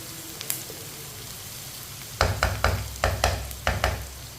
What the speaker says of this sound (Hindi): दो मिनट के लिए मैंने पका लिया है शिमला मिर्च और प्याज को भी साथ में।